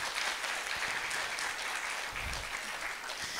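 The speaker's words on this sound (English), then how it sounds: "You can clap for that." An audience applauds at a panel discussion on free speech and civil rights, with a steady, even roar of many hands that stays fairly distant and sustained throughout.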